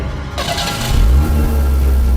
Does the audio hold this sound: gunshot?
no